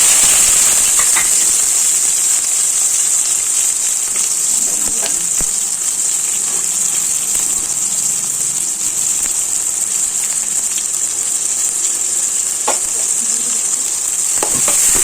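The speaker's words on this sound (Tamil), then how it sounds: "முதல்ல வடாவும் பொரியட்டும்" Vadagam sun-dried fritters fry in hot oil in a pan, a steady close sizzling hiss that runs unbroken throughout with occasional faint clicks and pops, no voices.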